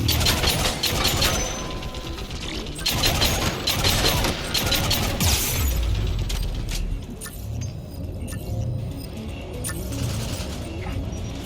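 Mounted turret gunfire in Mass Effect 3 comes as rapid bursts of shots over game effects and rumble, dense at first and thinning toward the end.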